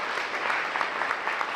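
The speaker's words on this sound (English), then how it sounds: "So give a round of applause for that." Steady crowd applause with dense, even clapping throughout, moderately loud and sustained with no voices standing out.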